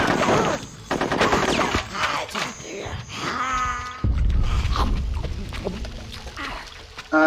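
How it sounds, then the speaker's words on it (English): Video game gunfire in rapid automatic bursts, loud and close, mixed with explosive effects and other game sounds while a person talks over it. "you can still shoot the guns without having to go into that manual aim"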